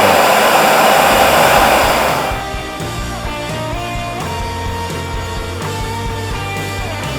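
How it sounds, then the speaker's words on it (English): A household sweeper's suction starts loud and broadband, a steady rushing roar for about two seconds, then drops to a quieter hum under music for the rest. "when we touch that button, it basically just vacuum anything up"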